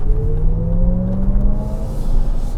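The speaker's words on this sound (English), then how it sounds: "We're gonna get into sport mode here. And we're just gonna floor it in this puddle." A Lexus RZ 450e electric car in sport mode surges hard through a puddle, a rising electric motor whine sweeping upward over a steady roar of tires and splashing water, loud and close with no voices.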